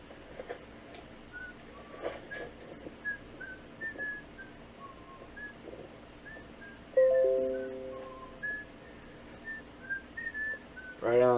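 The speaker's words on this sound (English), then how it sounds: "him just walking around whistling." A man whistles a wandering tune while walking around, the whistle fairly faint over a noisy background with scattered knocks, then a sharper sustained tone and a brief bright burst near the end.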